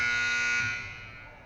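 A loud, sustained electronic buzzer sounds the end of a quarter in a girls' high school basketball game at the Jones Kiwanis Invitational, holding steady, then fading off in a gym.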